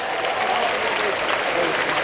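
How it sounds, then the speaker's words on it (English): Audience applause from a crowd at an induction ceremony, a steady wash of clapping filling the whole two seconds with no break. "Give yourselves a round of applause for being such a good crowd."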